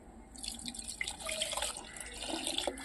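Water poured from a tap or vessel into a pot of fish curry, a faint splashing and trickling pour with a few drips, close and quiet.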